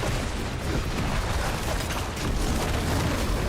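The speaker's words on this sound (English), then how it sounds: "just so many explosions everywhere." Dense, continuous explosions and booming bursts from Warlock class combat in a Diablo-style action video game, loud and layered with no speech over them.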